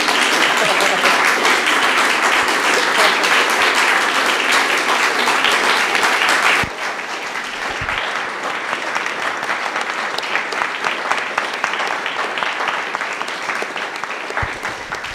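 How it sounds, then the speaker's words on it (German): A lecture audience applauds at the close of an artist talk, dense sustained clapping filling the room, loud for about six seconds, then continuing somewhat quieter and thinner to the end. "ich glaube, Sie können erst mal klatschen"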